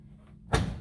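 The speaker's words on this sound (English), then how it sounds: "So you have to open the door" An instrument's door is pulled open with one short, sharp bang or clunk about halfway through, preceded by quiet room noise and followed by a brief fading rattle, with no voices.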